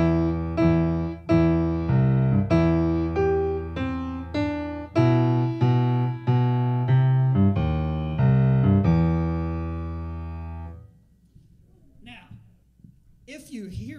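A held-note musical passage plays, likely a keyboard or organ, a run of sustained chords and notes in an uneven rhythm that stops abruptly, followed by faint noise and scattered sounds; it imitates Darth Vader coming down a chimney.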